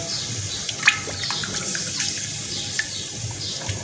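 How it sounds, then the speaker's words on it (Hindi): A cup of milk pouring into fried masala in a pan for beef paya, a steady close liquid wash with a few small splashes and clinks, no talking. "अब हम इसमें डाल रहे हैं 1 कप दूध"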